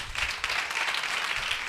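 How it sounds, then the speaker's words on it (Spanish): A church congregation claps for God during a Spanish-language service, a short, loud burst of applause with uneven, lively rhythm from a nearby crowd. "Fuertes aplausos a Dios."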